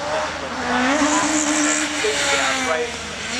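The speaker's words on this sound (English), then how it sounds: "Sounds about 1 billion RPM." A 250-horsepower rally car revs at very high RPM during a stage, a loud sustained engine whine that shifts in pitch, heard close and continuous throughout.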